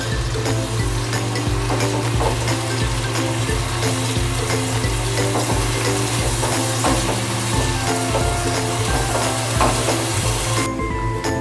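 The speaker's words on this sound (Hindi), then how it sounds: "अब इसमें चॉप्ड टमाटर ऐड करेंगे" Chopped tomatoes with ginger sizzle steadily in a hot pan for chole, a continuous close frying hiss with occasional stirring scrapes and no voices.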